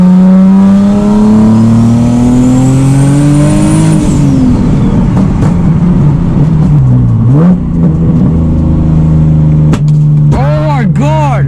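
Turbocharged Nissan 370Z engine with a big exhaust leak at the rear-mount turbo and test pipe, revving loud and close, the pitch climbing steadily then dropping, with short sharp blips near the end.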